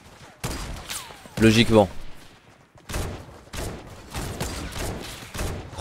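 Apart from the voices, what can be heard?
gunfire from a weapon in the video game Fortnite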